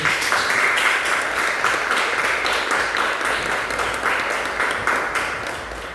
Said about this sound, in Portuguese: Vai ser recebido pelas palmas de vocês.